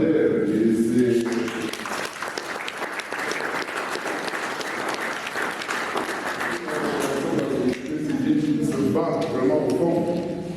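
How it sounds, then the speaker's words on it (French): Sustained, dense audience applause fills a panel session on the family, steady and close for about ten seconds, with a voice speaking briefly at the start and again near the end. "je voudrais que vous puissiez vraiment applaudir pour Abadère"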